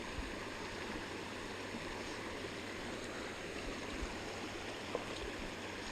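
Fast-flowing water of the Upper Colorado River in Rocky Mountain National Park rushes in a steady, dense broadband wash, close and constant throughout with no talk.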